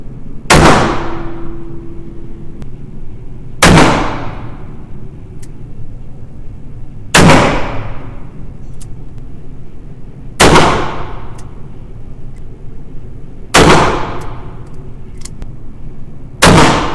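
Pre-WW1 French cavalry revolver fired at a target, six loud sharp shots spaced about three seconds apart, each ringing out and decaying, with no talking.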